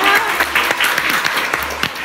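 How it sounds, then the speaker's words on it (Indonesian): An Indonesian podcast's studio audience applauds, a dense steady burst of clapping with a few louder claps standing out, close and continuous throughout. "Boleh tepuk tangan sekali lagi semuanya"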